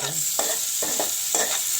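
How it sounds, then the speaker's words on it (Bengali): Oil sizzles steadily in a pan with chopped onion, garlic and dried chili while a utensil scrapes and stirs three times in quick succession, close and fairly loud. "তেল এবং পেঁয়াজ কুচি রসুন কুচি এবং শুকনো মরিচ কুচি এগুলো দিয়ে দিলাম"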